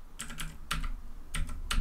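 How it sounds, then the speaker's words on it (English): Arrow keys clack on a computer keyboard during Tetris in Emacs, a close run of about six crisp taps coming in quick pairs and singles with brief gaps between them. "Press left and right arrow keys."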